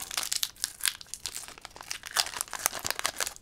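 Pokémon booster pack foil torn and crinkled open by hand, a close run of rapid crackling, ripping bursts for several seconds with no talking.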